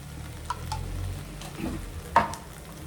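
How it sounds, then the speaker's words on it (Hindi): Whole coriander powder and spices frying in a pan for Uttarakhand thichodi, a low steady sizzle with a few sharp spoon scrapes and clinks against the metal, one louder knock near the end. "अब इनको हमने मसाला भूनना है।"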